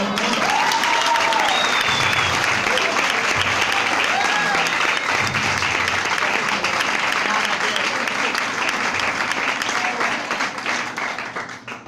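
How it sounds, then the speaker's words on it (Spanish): Dense, sustained applause from an audience, loud and continuous for several seconds before tapering off slightly near the end, with faint voices mixed in. "Eso me hizo un aplauso, hermano."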